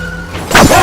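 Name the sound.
pickup truck crashing into car from behind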